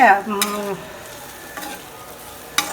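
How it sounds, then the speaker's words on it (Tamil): Ivy gourd (kovakkai) being stirred and sautéed in a pan over a low flame, a soft sizzle with a few scraping stirs, close and quiet, after a brief tonal sound at the start. "சிம்மில் வச்சுட்டே வணக்குங்க"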